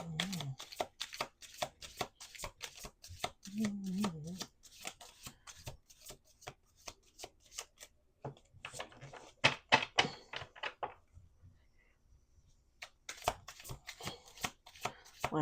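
A deck of playing cards is shuffled repeatedly, with quick riffling bursts and crisp snaps separated by short pauses, close and fairly quiet.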